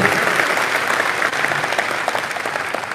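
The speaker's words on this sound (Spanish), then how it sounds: "aplauso para el Señor" A church congregation breaks into loud, continuous applause, a dense even patter of many hands clapping close and strong throughout.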